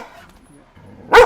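A dog lets out one short, sharp bark close by at the very end, after a stretch of quiet speech.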